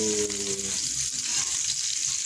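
Two chopped onions hit a hot pan for a home-cooked lunch dish, giving a dense, steady sizzle that stays close and loud throughout, with a faint hum at the start and no talking.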